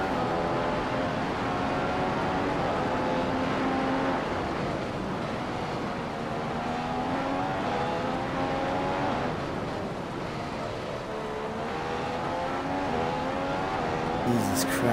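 F1 car engine in the F1 2015 racing game at the Austrian GP, a high whining roar rising and falling through gear changes as the throttle is worked, continuous and fairly loud.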